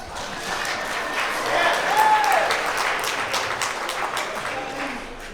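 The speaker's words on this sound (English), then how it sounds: "Round of applause, please." Applause from an audience at a celebration, steady clapping that swells slightly in the middle and carries on throughout, with a voice briefly heard over it.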